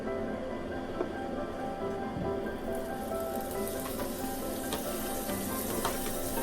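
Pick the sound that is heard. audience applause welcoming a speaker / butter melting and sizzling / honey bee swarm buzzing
butter melting and sizzling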